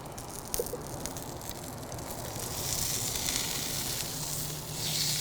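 Chicken sears in a thin layer of oil in a hot pan, a steady close sizzle that swells louder partway through and stays constant, with no talking.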